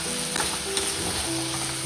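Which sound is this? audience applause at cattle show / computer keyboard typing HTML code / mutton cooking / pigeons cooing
mutton cooking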